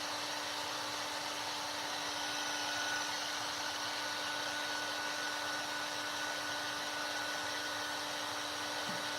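A heat embossing tool blows steadily over cardstock laid on melting embossing powder. Its close, constant whirring drone of fan and heating element runs unbroken throughout, with no voices.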